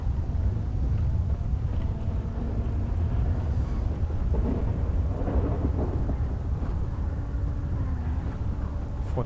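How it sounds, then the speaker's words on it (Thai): Rain pours down in a video game town scene, a steady dense hiss with low rumbling underneath, continuous and fairly loud throughout with no voices. "ฝนก็ตก"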